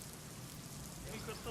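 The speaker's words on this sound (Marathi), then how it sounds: "आपण बघतोय मुसळधार पाऊस पडतोय" Heavy rain pours steadily on surfaces in a Konkan kokum-growing area, a dense even hiss that fills the whole moment without a break.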